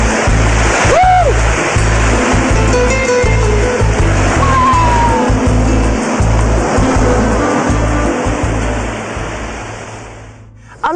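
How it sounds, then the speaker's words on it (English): Ocean waves at Morgan's Rock, Nicaragua, roll in as a loud, steady wash of surf against the shoreline, with a constant broadband roar and brief surges, briefly joined by a faint whistle-like tone before fading slightly near the end. "you can hear these waves crashing against the shoreline"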